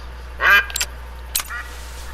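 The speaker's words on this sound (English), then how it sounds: "Oh, there's ducks right there." Ducks in the savanna reserve of theHunter Call of the Wild let out a couple of short, nasal quacks, fairly close, over a quiet, steady background hum.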